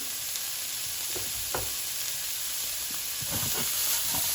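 Brussels sprouts, seasoned with kosher salt and cracked black pepper, sizzle in a hot pan with a steady close hiss and a few soft taps as they are moved.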